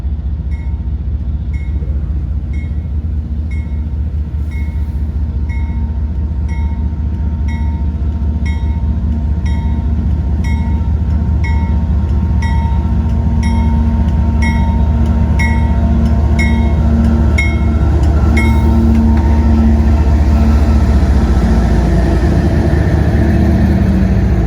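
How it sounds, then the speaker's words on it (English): CP Train 197, a westbound intermodal and mixed manifest freight train, leaves Minneapolis on the Paynesville subdivision near Humboldt Yard in February, its cars rolling past in a steady, loud rumble with a rhythmic clicking of wheels over rail joints. "CP Train 197 is seen leaving Minneapolis city limits on the Paynesville subdivision, about to pass through Humboldt Yard."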